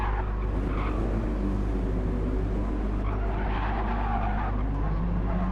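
Race car in Gran Turismo 7 at Atlanta spinning out, tyres skidding and squealing over a steady loud engine drone, continuous and close for several seconds.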